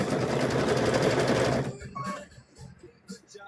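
A sewing machine stitches through a rope project in a loud, dense run lasting about a second and a half, then stops, leaving quiet clicks and light handling noises.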